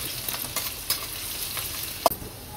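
Finely chopped garlic and ginger frying in a pan, a soft steady sizzle broken by a few light stirring taps and one sharp clink near the end.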